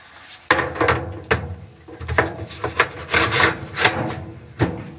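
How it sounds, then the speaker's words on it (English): A dryer lint filter scraping and clattering as it is slid back into its slot, with several sharp knocks and rasping rubs in irregular bursts, close and fairly loud. "Let's make sure our filter goes in."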